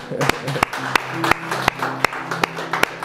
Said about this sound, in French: Et le peuple de Dieu acclame le Seigneur.